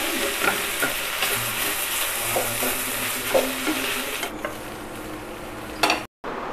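Ivy gourd, tomatoes, onions, green chillies and tamarind frying and being stirred in a pan, a close crackling sizzle with spoon scrapes that thins out near the end, no talk.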